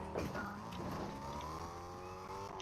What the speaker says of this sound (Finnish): Joku tulee autolla.